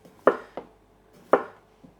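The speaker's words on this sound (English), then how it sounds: "I think I'm just gonna do thick slices." A kitchen knife cuts unpeeled potatoes into thick slices on a cutting board, a few distinct, close thunks spaced unevenly, with quiet between them.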